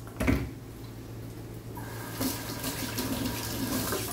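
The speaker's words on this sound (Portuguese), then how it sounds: "Deixa eu lavar aqui a latinha para poder abrir." A small tin can being rinsed under a running kitchen tap, with steady water splashing into the sink and a brief clatter near the start, close and moderately loud throughout.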